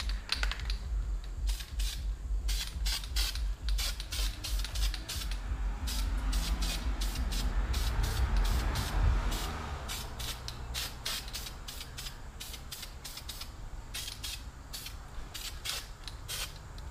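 Spray cans applying paint to car wheels give a steady run of short, close hissing bursts in quick rhythm, with a fuller spray swelling in the middle; no one talks.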